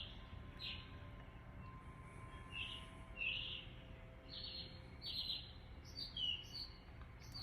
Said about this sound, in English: I believe it's a sparrow.